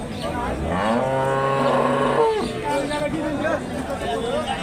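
A Holstein Friesian dairy cow moos loudly and close, a long drawn-out low call, while a crowd chatters in the background at a cattle market.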